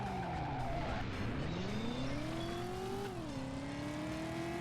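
A car in the Driver PlayStation game pulling a handbrake turn, a loud sustained tyre skid squeal bending in pitch over a revving engine, continuous and close.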